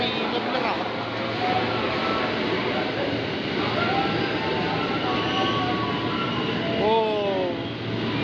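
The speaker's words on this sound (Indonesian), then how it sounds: "Nah ini dia yang kereta ke Bekasi." A commuter train to Bekasi rolls through Sudirman station, Jakarta, steadily with a continuous rumble, brief metallic squeals rising near the end, and people talking faintly nearby.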